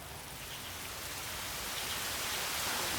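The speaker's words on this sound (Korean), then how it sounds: "갑자기 내리는 비" Sudden rain pours down in a Shanghai park as a dense, steady hiss of drops hits surfaces all around. The rain stays close and enveloping, growing slightly heavier, with no voices.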